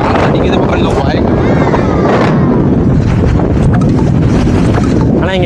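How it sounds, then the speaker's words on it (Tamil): Strong wind on a mountain top at Ramakkalmedu, Kerala, roars and buffets the microphone in a constant loud rumble that barely lets up for the whole stretch. "இப்போ காற்று அடிக்கிறது பக்கம் வாய்க்கு"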